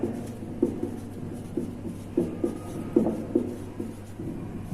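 Pen writing on paper during a Hindi maths lesson on linear equations in two variables, soft scratchy strokes in short irregular bursts over a quiet room hum.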